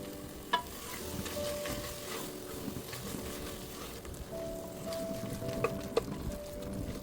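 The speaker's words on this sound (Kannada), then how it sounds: "ಇವಾಗ ಇದಕ್ಕೆ ಕೊತ್ತಂಬರಿ ಸೊಪ್ಪು ಮತ್ತು ಪುದೀನಾನ ಆ್ಯಡ್ ಮಾಡಿಕೊಂಡು ಚೆನ್ನಾಗಿ ಮಿಕ್ಸ್ ಮಾಡ್ಕೊಳ್ಳೋಣ" Biryani gravy is stirred together with fresh coriander and mint for a mushroom biryani, a continuous close sizzle and scraping with a few sharp spoon knocks against the pot.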